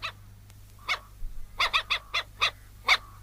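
A tiny dog yaps in a quick series of short, high barks, close and clear against a quiet room hum.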